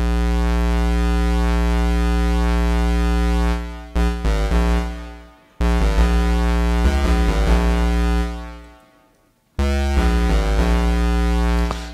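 A granular synthesizer with a square-wave oscillator layer dropped two octaves drones in loud sustained buzzy tones, cutting out briefly several times with stuttering grains and reverb tails before resuming.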